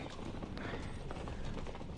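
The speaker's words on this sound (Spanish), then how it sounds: "Corre, corre, caballo, corre." A horse gallops in Call of Duty: Mobile during a midday chase event, its rapid hoofbeats drumming steadily and loudly over a dense mix of game sound, with no talk.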